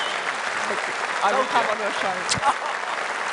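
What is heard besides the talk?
audience applause at a political rally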